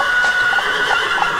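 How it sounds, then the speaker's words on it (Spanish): A horse whinnies loudly and close, a sustained shaky neigh with no talking around it. "A Eclipse le gusta galopar a toda velocidad."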